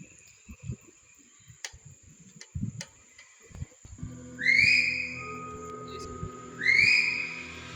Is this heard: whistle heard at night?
yes